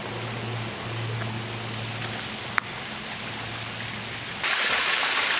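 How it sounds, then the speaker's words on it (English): Steady running water from a resort pond water feature fills the scene with a continuous broadband rush, close and even, growing slightly louder near the end. "Another pond and water feature."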